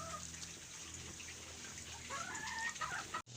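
A broody mother hen clucks and murmurs nearby amid other poultry sounds, including ducks and geese, over a faint hissy background, ending with a sharp click.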